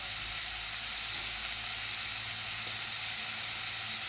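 Red chili powder, black masala, coriander powder and turmeric fry in a pan for a bean curry, making a steady, continuous sizzle and hiss throughout, close and fairly soft, with no voices.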